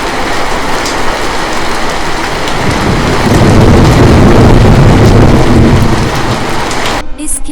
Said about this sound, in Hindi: बारिश रुकने के बजाय और भी तेज हो रही थी।